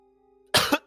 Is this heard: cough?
yes